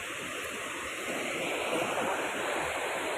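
A waterfall near a lansones planting site gives off a steady, dense rushing roar, even and continuous throughout.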